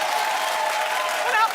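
A studio audience at a talk show claps steadily and fairly loudly, a dense wash of hands with a brief voice rising near the end before the sound dips.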